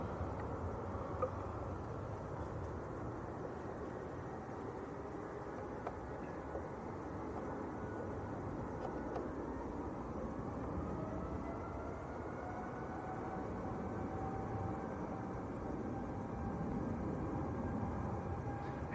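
A Gulf Air Boeing Dreamliner on its take-off roll, a distant, steady jet roar with a slowly rising whine, heard alone and fairly faint.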